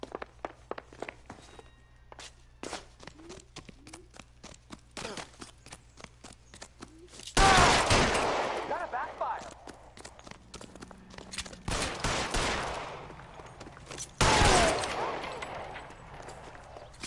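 Sharp bursts of gunfire ring out in LA Noire, a loud volley around the middle of the scene and another a few seconds later, separated by quieter, choppy background sounds and brief voices.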